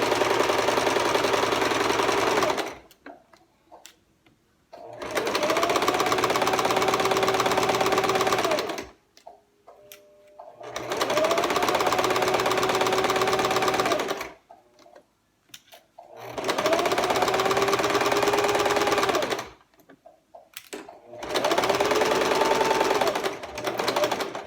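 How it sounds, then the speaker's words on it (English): A sewing machine stitches a waistband in fast, loud bursts of several seconds each, separated by short silent pauses, the motor's whine rising and falling as each run starts and stops. "I'm sewing super fast just to get through this"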